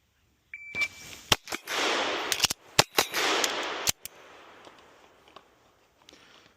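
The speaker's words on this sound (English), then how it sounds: "just wrapped up my range session with the Walther PDP Steel Frame Match" Pistol shots from a Walther PDP Steel Frame Match at a shooting range: a loud, sharp string of reports, some fired in quick pairs, with a shot-timer beep at the start and ringing echo between shots.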